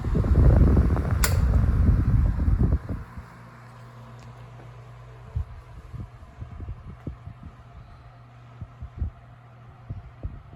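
A Kuo Horng 16-inch oscillating floor fan, freshly lubricated, starts with a loud whoosh of moving air that cuts off after a few seconds, leaving a low steady hum with faint irregular ticks and clicks.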